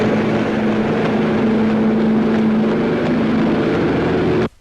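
A propeller aircraft loaded with a company of paratroopers roars during takeoff for a reenacted film scene, a loud, steady engine drone with a sustained low hum that cuts off abruptly at the end.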